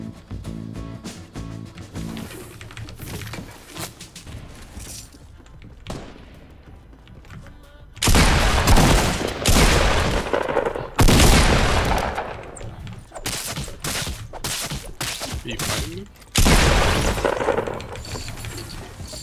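Gunfire in a Fortnite 50 vs. 50 match, with loud bursts of rapid shots and impacts in several clusters separated by quieter stretches, some closer and heavier, with scattered crashes and game sounds in between.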